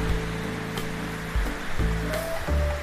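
The Putuk Truno waterfall in Pasuruan gives a steady broadband rush of falling water, with low thumps and brief tonal bits over it, and no talking.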